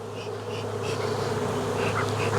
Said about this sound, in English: they've got a few thousand bees here on the inside of the box